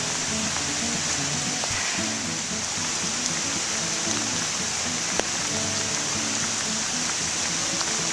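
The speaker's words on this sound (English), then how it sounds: "You can hear the water raging in that brook" Swollen brook rushing after Hurricane Irene, a steady broadband roar of churning water heard close and continuous, with no talk over it.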